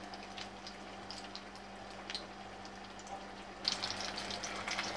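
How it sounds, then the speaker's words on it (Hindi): Food frying on its second side in a pan in an Indian home kitchen, a faint, steady crackle with scattered pops over a low background hum, growing louder and busier toward the end. "अब दूसरी तरफ हमें अच्छी तरीके से फ्राई करके फिर सर्व करना है।"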